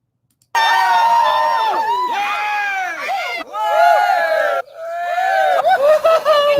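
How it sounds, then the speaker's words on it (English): A crowd of children cheering and shouting as a sound effect, loud and continuous with rising and falling whoops, two brief breaks before the cheering resumes and trails into scattered yells. "These are weak cheers."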